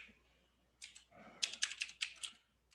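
Fingers type a file name on a computer keyboard, a short quick burst of crisp key clicks at close range after a brief pause, fairly quiet overall.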